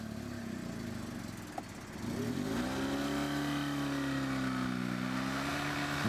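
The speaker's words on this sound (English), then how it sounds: "Frontera can drive and drag the OK from the Russian swamp." An Opel Frontera engine strains off-road while towing a car through a swamp, the revs climbing after a couple of seconds into a sustained, wavering drone that stays loud and close without speech.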